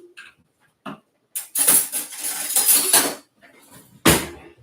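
A metal whisk clattering briskly against a bowl while batter is mixed, a busy run of rattling and scraping after a few isolated taps, ending with one sharp knock.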